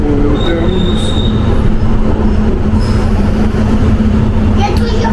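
A London Underground metro train at its terminus gives a loud, continuous rumble with sustained wheel squeal and metallic tones, and faint voices sit beneath the rail noise.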